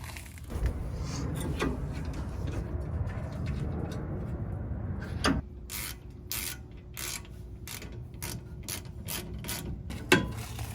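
A ratchet turns on the rear brake caliper of a second-generation Ford Raptor, giving a close run of quick, evenly spaced clicks in the second half after a stretch of duller mechanical handling.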